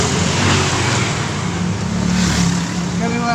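A car drives slowly through busy traffic on an early morning trip, with a steady low engine and road rumble while voices talk inside the cabin.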